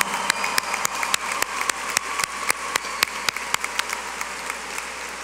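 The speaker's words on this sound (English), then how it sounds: "Please join me in a round of applause" A crowd at a high school graduation claps steadily in a dense wash of applause, with a few sharper individual claps standing out.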